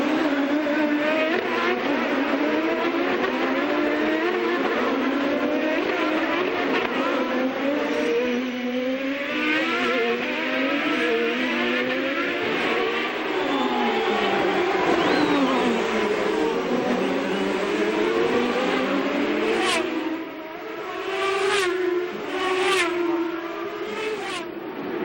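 Several 2007 Champ Car open-wheel race cars scream past on the Surfers Paradise street circuit in Australia. Their engine notes rise and fall in overlapping sweeps, loud and continuous, with a few sharp bursts near the end.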